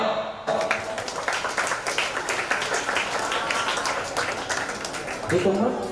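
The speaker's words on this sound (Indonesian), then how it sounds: "Oke, tepuk tangan buat kita, yuk" Audience applause at a youth chess tournament final, dense sustained clapping from a crowd in a hall lasting several seconds before tapering off, with a voice heard near the end.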